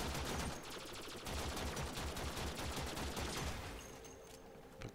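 Rapid turret gunfire in the Warframe game's void mission, a dense continuous stream of automatic shots that thins out toward the end, loud and close with no talk.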